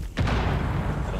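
A grenade explodes in the Rainbow Six shooter game with a sudden heavy boom. A rumbling, noisy tail follows and stays loud for about a second.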